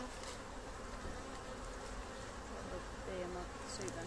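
Bees buzz around a beehive, a dense close-up hum filling the whole four seconds at a low, steady level.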